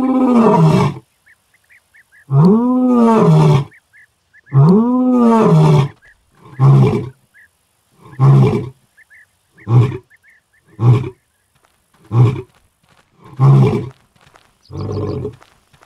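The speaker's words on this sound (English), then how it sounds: "this male African lion is on his way to them" Male African lion roaring on the plains, starting with long, deep moaning roars and falling into a series of shorter grunting roars at a steady rhythm, loud and close, with faint birdsong between calls.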